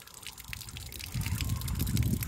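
Water gushes from a jet pump for a dog to drink, a splashing, trickling flow that grows louder and fuller partway through, close and continuous.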